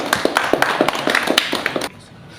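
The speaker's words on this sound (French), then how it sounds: "Là maintenant on peut applaudir." A small group claps in a quick, fairly regular burst of sharp hand claps for about two seconds, then stops abruptly into quiet room tone.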